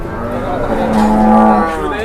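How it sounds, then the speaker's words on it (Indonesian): A single long, low moo from a startled cow at a livestock market, close and loud, drawn out for over a second before trailing off. "Kagetan ya sapi."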